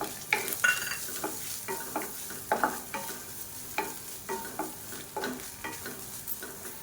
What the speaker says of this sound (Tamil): ஒன்றரை கப் அளவுக்கு திருவண்ண தேங்காய் இதையும் இதோடு சேர்த்து நல்லா வறுத்துக்கலாம்